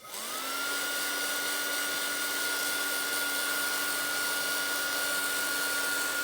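Heat tool blowing steadily to dry stamped vellum, a continuous loud whirring hum with a high whine that spins up at the start and holds alone throughout.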